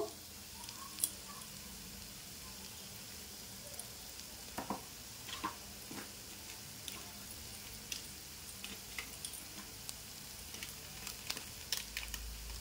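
Ground turmeric and cumin frying in hot oil in a pan: a faint, steady sizzle with light scrapes and taps of stirring scattered throughout, no voices.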